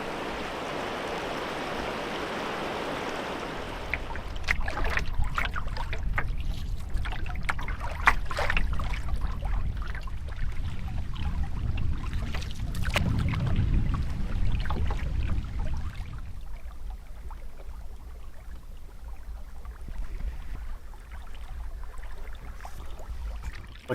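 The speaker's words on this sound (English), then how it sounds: "I couldn't have asked for a better day to be paddling this lake" Solo canoe paddling on Whitewater Lake, with a steady wash of water and repeated paddle splashes and drips close by, under a constant breezy background, thinning to quieter water lapping toward the end.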